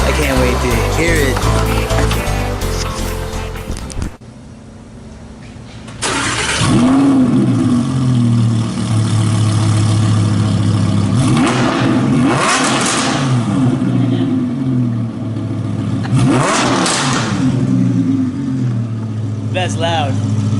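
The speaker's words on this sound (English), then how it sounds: "we're picking up my Audi R8 with the new exhaust" An Audi R8's aftermarket X-pipe exhaust roars through repeated loud revs, surging and dropping several times, with a brief quieter gap near the start and voices around it.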